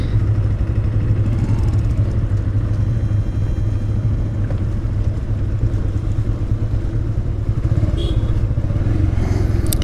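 Motorcycles ride over a badly broken hill road near Alikadam in Bandarban, producing a steady, loud engine rumble with rattling clatter that continues unbroken for the whole stretch.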